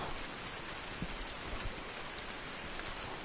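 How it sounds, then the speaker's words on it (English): Steady rain falls in Farming Simulator 19 on a northern coast farm where straw bales lie out in the open, a dense continuous hiss of drops alone with no voices, level throughout. "It's raining."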